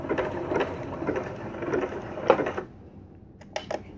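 A computerised sewing machine runs a zigzag stitch to sew on a button, a quick steady mechanical whirr with rhythmic pulses that stops after about two and a half seconds, followed by a few light clicks.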